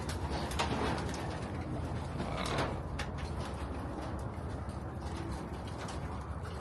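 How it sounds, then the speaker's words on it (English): Pigeons cooing steadily in a loft of well-bred birds, soft repeated coos close by over a constant background hum, with occasional clicks and faint mechanical rattles; no one speaks. "those pigeons are very bred"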